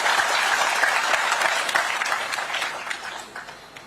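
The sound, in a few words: audience applauding loudly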